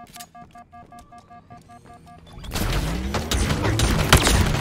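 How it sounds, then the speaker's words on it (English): Grenade explosions in Halo Infinite multiplayer: after a stretch of clicky in-game tones, a loud, dense roar of blasts and gunfire bursts in and keeps rumbling to the end, close and heavy. "Those nades just absolutely rocked me."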